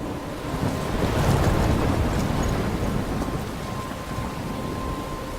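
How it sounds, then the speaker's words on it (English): Steady rain and rumbling thunder fill a stormy outdoor scene in the video game Life is Strange, a continuous loud wash of downpour with low booming swells and no talking. "I'm trapped in a storm?"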